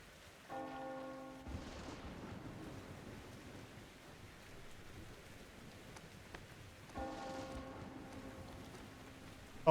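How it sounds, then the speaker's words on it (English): Steady rain patters throughout in the game Metro Exodus, with low rumbling swells and tonal game-like chimes near the start and again later; no voices. "Oh, the rain."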